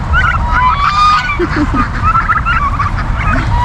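A flock of turkeys on a homestead gobbles nearby, overlapping honking and gobbling cries rising and falling over a steady low rumble of background noise.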